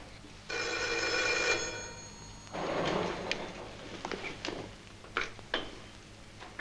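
An old telephone bell rings in a short burst, then stops. Several knocks and clunks follow, like a receiver being picked up, all close and quiet.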